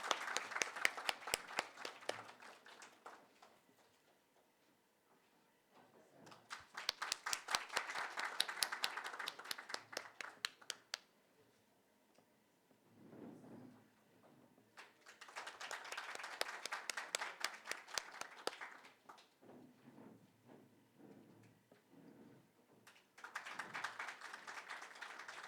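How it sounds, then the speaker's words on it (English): An audience at a women entrepreneurship and leadership panel applauds the panelists and speakers in several quiet bursts of clapping, each fading away, separated by near-silent pauses. "Can we have a big round of applause?"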